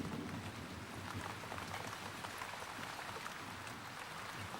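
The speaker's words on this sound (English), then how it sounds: "As the rain may not persist," Rain falls across the arid Karoo landscape of South Africa, a soft, even hiss of drops spread steadily over the ground, faint and distant with no breaks.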